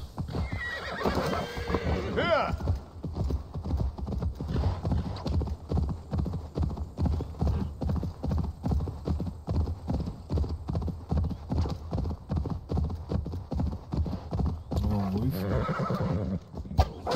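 A horse's hooves clatter in a steady galloping rhythm with whinnies at the start and end, under continuous talking, in the video game Assassin's Creed Valhalla.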